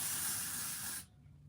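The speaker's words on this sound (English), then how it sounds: "if I spray it in my hair" Hair spray misted onto hair, a close, loud, steady hiss lasting about a second before stopping abruptly into quiet.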